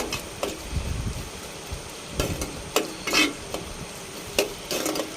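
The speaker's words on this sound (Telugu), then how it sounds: "ఇప్పుడు గరిటె పెట్టుకొని కలుపుకుందామండి" Ladle stirring fish curry in a pot, a series of scraping, clattering strokes against the metal with a soft background hiss, irregular in rhythm and close by, with no talking.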